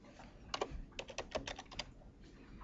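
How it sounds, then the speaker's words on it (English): Computer keyboard keys tapped in a short burst of about a dozen quick, close clicks with small pauses, entering a commodity keyword into a search box; no voices. "we need to type a commodity keyword into the search box"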